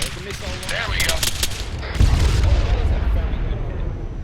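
Video game combat with an airstrike: dense gunfire crackle and heavy booming explosions, a big blast landing midway, loud and continuous, with voices speaking over it.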